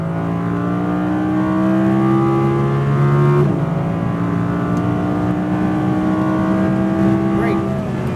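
An Audi R8 V10 RWD accelerating out of a corner on a race track, a loud, close engine note rising steadily with one gear shift midway; an instructor speaks briefly over the engine.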